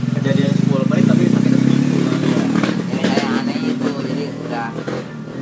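A motorcycle engine drones loudly and steadily at first, then gradually fades, with voices talking over it.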